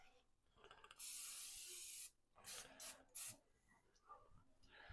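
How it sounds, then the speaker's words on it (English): An aerosol can of cooking spray sprays in a long hiss followed by several short bursts, close by, with quiet handling noises between. "Take that, spray it."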